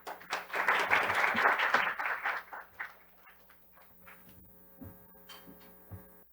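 Audience applause welcoming a female session chair to the stage at an international World Heritage conference, a dense burst of clapping for about two seconds that fades into scattered claps and room hum.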